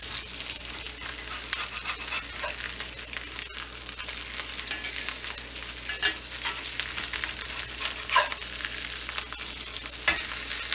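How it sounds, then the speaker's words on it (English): Meatballs browning in a frying pan, a steady dense sizzle with crackling spatter running throughout, close and continuous with no talking. "I think these are starting to get browned. I'm going to flip them, take a look."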